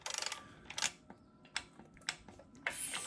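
A torque wrench tightens the ball joint nut on a Ford Super Duty front end, giving a rapid burst of clicks followed by sharp metallic ratchet clicks and clacks, close and fairly quiet, with no voices.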